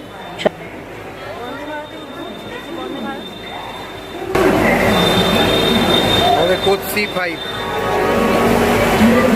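A train at Howrah station bound for Gaya, with loud metallic wheel squeal and rumbling carriages building midway, under platform bustle and nearby voices.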